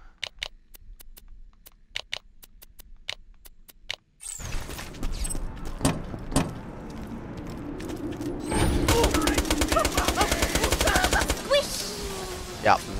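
Gunfire in the video game Borderlands 2: scattered sharp shots, then a loud burst of dense, rapid automatic fire mixed with clattering game effects.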